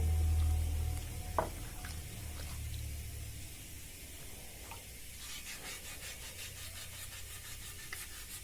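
Sandpaper rubs wet across alabaster stone with a steady, faint, close scraping that is uneven and continuous, after a brief knock near the start.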